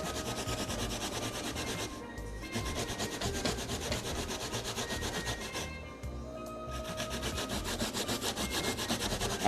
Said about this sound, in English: You grate the coconut,